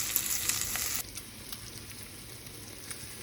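Fat sizzles in a pan while meat browns for torta tupuratú, a bright crackling hiss that drops abruptly to a quieter, sparser sizzle with occasional pops.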